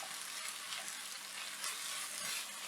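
Tomatoes hitting hot onions in a pan over a high flame for prawn masala, giving a steady close sizzle and crackle with faint stirring sounds, no talking.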